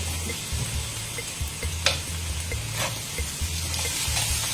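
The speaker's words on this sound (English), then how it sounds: "next we're going to put in our frozen shrimp" Frozen shrimp frying in a hot pan for Hokkien mee, a steady loud sizzle with clinks and scrapes as it is tossed, and a low pulsing hum underneath.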